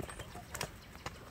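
A horse's hooves clop a few times at moderate loudness while the horse is shown to a buyer, with faint background noise between the steps.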